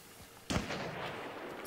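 A single sharp Martini-Henry rifle shot in the video game Hunt: Showdown, fairly distant and quiet, a sudden crack followed by a short rolling echo.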